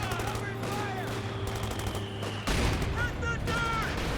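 Bazooka fire and rattling gunfire in a Company of Heroes 2 battle, a dense barrage of loud shots and blasts that swells midway through and continues.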